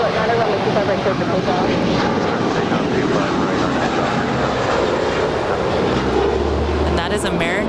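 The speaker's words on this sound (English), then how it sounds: "that is American 1637 heading off to Charlotte, North Carolina. It's a 7-year-old A321." An American Airlines Airbus A321, seven years old, takes off at LAX bound for Charlotte, giving a steady, loud broadband jet roar that holds throughout with a deeper rumble rising near the end.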